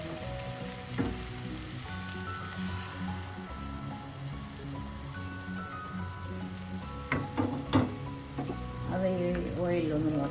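Masala powder roasting in a pan for a pepper squid dish: a continuous, moderate sizzle and fry with occasional stirring scrapes and clinks, plus some background tones and brief noises near the end.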